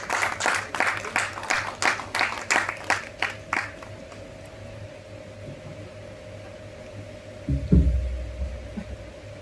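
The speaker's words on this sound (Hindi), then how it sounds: "जोरदार तालियों के साथ" A short round of scattered clapping from a small group at a Buddha Jayanti lecture event, a few seconds of rhythmic claps that fade out, followed by quiet room noise and a brief thump.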